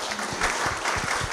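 A small audience applauds at a museum catalogue presentation at the Sisak City Museum, a brief, fairly steady patter of clapping with some individual claps standing out.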